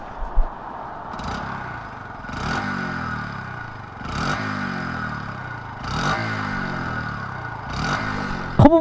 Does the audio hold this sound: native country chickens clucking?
no